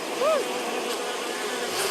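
Steady honeybee buzzing, like a swarm, fills the short stretch with a dense hum and a brief louder whine near the start.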